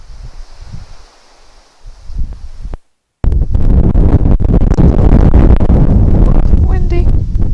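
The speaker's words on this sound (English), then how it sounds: "Windy." Wind gusting outdoors, a dull rumble that lightly buffets the microphone and then turns into a loud, steady roar, broken for a moment by a short gap of silence.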